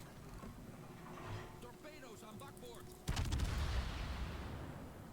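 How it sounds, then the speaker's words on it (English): Bombs burst on ships in a naval video game with a sudden loud boom, followed by a rumbling roar that slowly fades, coming after a stretch of faint background sound and speech. "I'm going to put the bombs right there"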